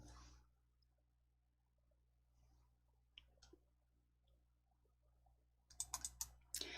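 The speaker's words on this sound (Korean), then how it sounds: "문제 1 본문 입력 더블 클릭 열어주세요." A computer mouse clicked close up in a quiet room, with a few faint isolated clicks and then a quick cluster of crisp double clicks near the end over a low steady hum.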